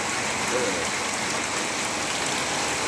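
Rain falls steadily in a continuous, even hiss that stays at one level throughout with no break, close and fairly loud.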